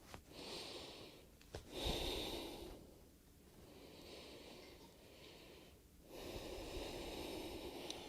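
Slow, deep breaths during a pilates class, long soft inhales and exhales repeating in an even rhythm, close and quiet with no talk.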